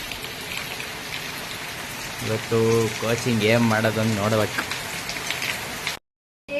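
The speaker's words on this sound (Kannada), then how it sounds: "ಹಿಂಗೆ ಹೊಡೆದ್ರೆ ಮಳೆ" Torrential rain in Chikkamagaluru keeps up a steady, close hiss while a voice talks over it midway, then cuts out briefly near the end.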